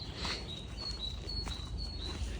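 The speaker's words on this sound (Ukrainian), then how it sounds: "пташки співають." Small birds sing outdoors on a spring day, with thin high chirps and whistles repeating faintly at a distance over a low outdoor rumble.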